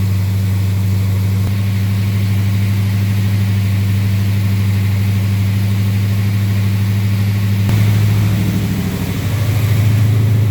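A 1970 Buick Skylark fitted with a 284-88H cam holds a fast idle of about 1600 RPM, giving a loud, close, steady low engine drone that stays even throughout, with a slight swell near the end.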